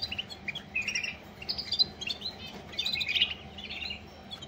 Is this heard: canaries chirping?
yes